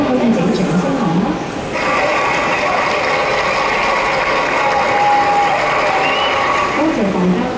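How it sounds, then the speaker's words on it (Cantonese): Sustained applause from a seminar audience fills the room after a short pause, a dense steady clatter of many hands that continues evenly to the end, with a faint tonal hum running underneath. "大家可以俾掌聲我嗎？"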